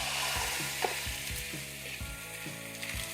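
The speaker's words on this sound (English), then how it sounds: "pour in the egg whites" Constant crackling sizzle of egg whites frying in a hot skillet, with soft scraping and tapping from spreading underneath.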